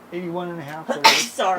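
A single sharp sneeze bursts out in a room during a greenhouse build, right after someone speaks briefly, and he apologizes just afterward; loud and close.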